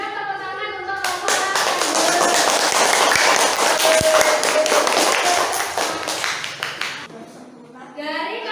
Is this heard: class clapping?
yes